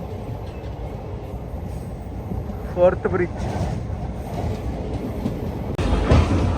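A Chennai–Visakhapatnam superfast express runs near the Godavari river bridge, its steady rumble and wheel rattle filling the background, swelling louder toward the end while a person speaks briefly.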